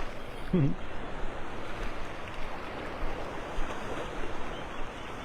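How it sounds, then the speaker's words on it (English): Ocean waves washing onto a beach at Clam Pass in North Naples on a Sunday morning, a steady, moderately distant surf wash with wind noise, a brief voice near the start. "Hear the waves."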